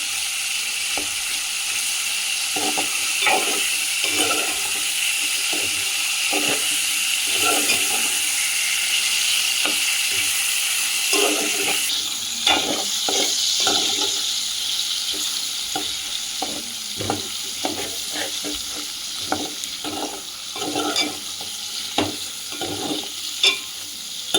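Dried fish sizzles in a pan until brown, a steady bright hiss of hot oil broken by frequent scraping stirs and clinks of a spatula, all close and continuous.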